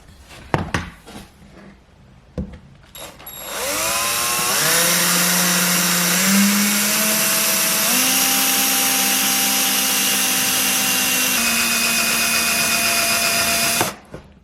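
A few clicks, then a cordless drill with a dying battery whirs up and runs in one long, loud, high whine that dips slightly in pitch before cutting off, while drilling holes to fit a front splitter on a Vauxhall Astra VXR.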